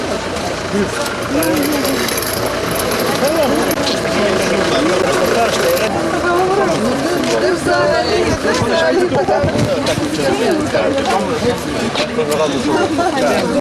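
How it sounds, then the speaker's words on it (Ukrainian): Busy street market in Kolomyia town centre with traffic, a dense, loud wash of crowd chatter and idling car engines, continuous throughout, with voices talking up close. "Коні, люди їздять машини, бігають собаки і активно продають, купляють фрукти та овочі."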